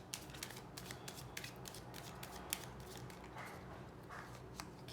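Tarot cards shuffled during a love reading, a steady papery riffle with soft repeated flicks and taps, close and fairly quiet, with no voice over it.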